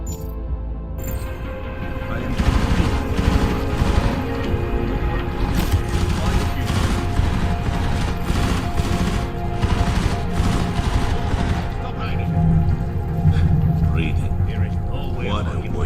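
Deus Ex Mankind Divided firefight with repeated rapid gunshots and bursts, loud and close, while people talk over the action.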